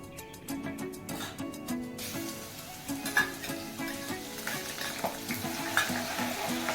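Garlic sizzles in hot oil during tempering for a fenugreek leaf curry, a steady close hiss with scattered stirring clicks and scrapes.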